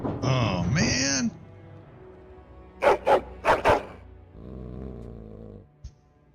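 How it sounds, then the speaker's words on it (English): A hound in the Dragon Age: Origins video game lets out four quick, loud barks in a row, heard in between other game sounds and a voice. "Your hound is making so much noise."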